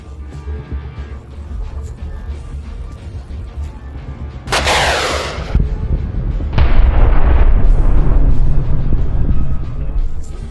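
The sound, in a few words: Russian tank exploding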